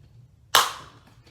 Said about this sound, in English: So I'm going to use a 1/4-inch hole punch.